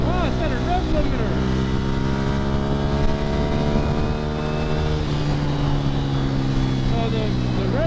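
A 2015 Ducati Scrambler motorcycle engine revs hard, its pitch rising and falling in repeated sweeps as it bounces off the rev limiter, loud and close throughout the clip.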